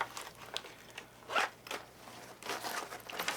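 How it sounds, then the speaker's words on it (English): A camera microphone pouch is zipped shut, several quick close zipper rasps in bursts with short pauses, fairly quiet, no voices. "it fits into this nice little snug little pouch that you can quickly zip back up and put back in the bag"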